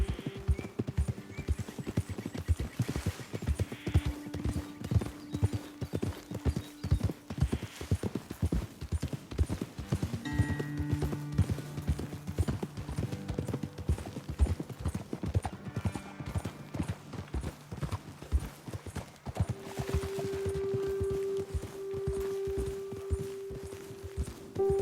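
Steady clip-clop of hooves as horses walk along in Red Dead Redemption 2, with occasional snorts and a whinny, brief voices talking, and a sustained tone near the end.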